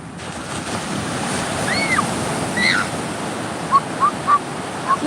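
Ocean surf rolls steadily at a beach in Anyer, near Hotel Marbella, a broad continuous wash of waves with wind, while brief high chirps or squeaks sound faintly over it.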